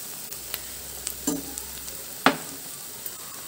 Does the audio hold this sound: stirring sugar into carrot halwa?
yes